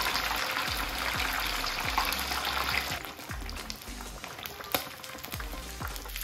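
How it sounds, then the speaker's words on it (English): Steady crackling sizzle of breaded pork cutlet deep frying in hot oil, close up, with dense popping and bubbling throughout, easing slightly partway. "Deep frying twice in hot oil gives a crispy finish."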